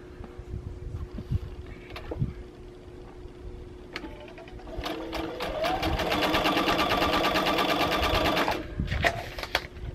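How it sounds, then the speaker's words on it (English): A sewing machine stitches a seam on a small quilt patch, running steadily and loudly for several seconds in the middle after a few quiet clicks and handling sounds, then stopping. "I want to put another one on the opposite corner, and I want to stitch in the same direction"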